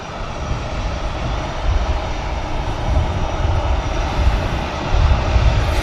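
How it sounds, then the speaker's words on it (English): A TUI jet airliner bound for Hurghada taxiing at Manchester Airport, its loud, continuous engine roar rumbling close by and swelling slightly in pulses, with no talking. "TUI flight to Hurghada, flight 790 on the move."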